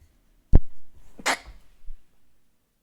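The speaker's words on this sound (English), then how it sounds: "sorry about that. I sneezed." A single loud, close human sneeze bursts out sharply, followed by a few seconds of soft breathing and small shuffling noises.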